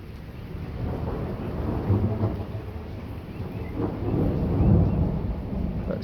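Thunder rolls and rumbles low and heavy through a strong thunderstorm, swelling in two broad waves over a steady wash of rain.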